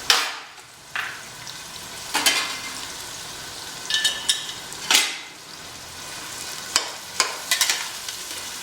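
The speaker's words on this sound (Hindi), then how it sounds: "और इसे बढ़िया लगभग 8-10 मिनट तक प्याज को बढ़िया भून लेंगे, हम पका लेंगे।" Sliced onions and green chillies fry on a high flame for a Rajasthani boti masala gravy, giving a continuous sizzle. Sharp scraping clatters of a spoon stirring against the pan recur every second or two.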